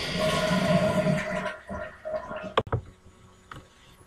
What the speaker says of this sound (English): And now flush.